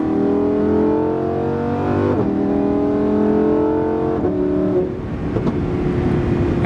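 A Lamborghini Huracan Performante's naturally aspirated engine screams loud and close, its pitch climbing through three high revving pulls separated by quick shift breaks before settling to a lower drone.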